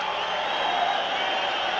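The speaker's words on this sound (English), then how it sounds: "And the crowd responds." A boxing crowd in El Paso reacting at the end of the sixth round of Stephen Martinez vs. Pedro de la Cruz in 1990, a steady, dense roar of voices that fills the arena without a break.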